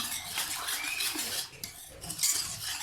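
A whisk beats gram flour batter for kadhi pakora in a bowl, rapid rhythmic metallic scraping and clinking, steady and close with no talk.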